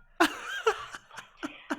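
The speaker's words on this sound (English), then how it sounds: "You're gonna kill me with my cough" Short bursts of coughing, five or six sharp hacks in under two seconds, sound close and fairly loud after eating the extremely spicy Paqui One Chip Challenge chip.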